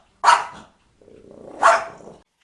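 A dog gives two barks about a second apart, the first short and sharp, the second preceded by a low growl-like buildup, close and fairly loud with no one talking.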